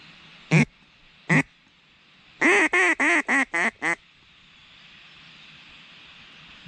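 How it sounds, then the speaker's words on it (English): Mallard duck quacks during a kayak hunt on public land in New York: two loud, separate quacks, then a quick run of six descending quacks, close and clear over quiet outdoor background. "That was a mallard."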